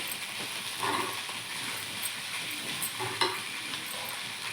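Broad beans frying in a spiced tempering with spice powder added, stirred in a pan: soft steady sizzle with faint scraping stir strokes, quiet and close, no voices.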